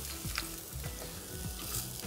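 Scallops searing in a hot pan in a restaurant kitchen, a steady close sizzle and crackle of frying with small spatter pops throughout, no talking.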